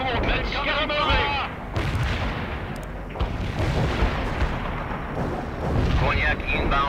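Mortar rounds fired and impacting in World in Conflict, with repeated heavy thuds and rolling booms over a constant low battlefield rumble, alongside radio chatter and voices talking throughout.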